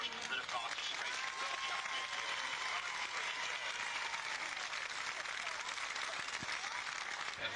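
Audience applause at a 1987 derby world championships results ceremony, honouring the participants; continuous, fairly distant crowd clapping holds steady throughout, with a voice faintly heard over it.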